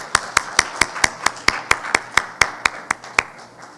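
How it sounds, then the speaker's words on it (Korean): Audience at the opening ceremony of an academic conference, a winter meeting of a global cultural content society held at a university, claps in a sparse, steady rhythm of about fifteen distinct, fairly close claps with no talk over them. "그래도 박수 한번 부탁드리겠습니다"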